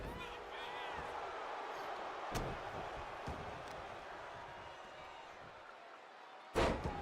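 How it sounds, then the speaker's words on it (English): Body slams and impact thuds from a wrestling video game, sharp hits standing out over a constant crowd roar with commentary talk running through. "Huge clothesline, knocking him down."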